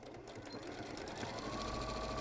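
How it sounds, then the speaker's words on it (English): Sewing machine stitching around a fabric cat softie sewn right sides together, a steady continuous mechanical whir running close and fairly loud throughout, with no talking. "I'll sew right sides together, leaving the bottom and the side turning gap as indicated on the pattern open."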